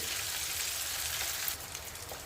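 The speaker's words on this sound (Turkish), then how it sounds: "Evet şimdi bu tarafının da kızarmasını bekleyelim" Sea bass fillets fry in hot oil with a steady, close hiss and crackle of sizzling, a few louder pops near the end.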